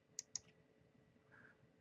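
Two quick, sharp computer mouse clicks close together, quiet and close, followed by faint room hum.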